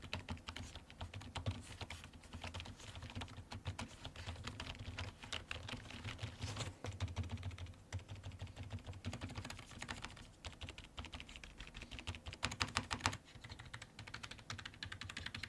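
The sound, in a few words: typing on Logitech MK370 keyboard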